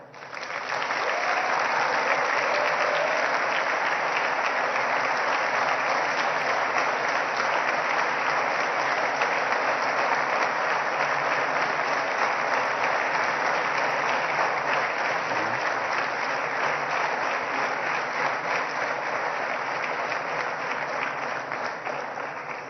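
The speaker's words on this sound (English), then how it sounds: "kindly give them a warm and a resounding round of applause" Audience at a televised governorship election debate applauds continuously, a dense loud steady ovation sustained for over twenty seconds without a break.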